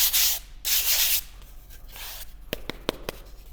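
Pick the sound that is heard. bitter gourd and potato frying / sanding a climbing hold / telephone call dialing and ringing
sanding a climbing hold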